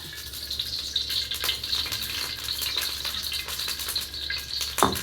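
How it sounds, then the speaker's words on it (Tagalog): Carrots and potatoes frying in hot oil in a wok-style pan for chicken afritada, a steady dense sizzle throughout with a few louder crackles and pops, close and with no talking. "iprito ko bahagya yung carrot sa patatas"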